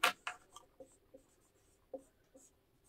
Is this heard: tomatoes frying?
no